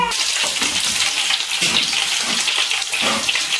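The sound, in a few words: frying chicken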